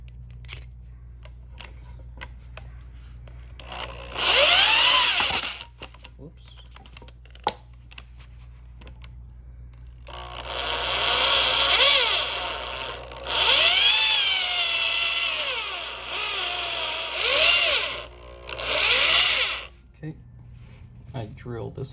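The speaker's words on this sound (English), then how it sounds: "Drill this one out" A power drill whines in several bursts, drilling out a throttle shaft bushing on a Subaru Justy DFC328 carburetor, rising and falling in pitch, loud and close over a steady low hum, with scattered clicks between runs.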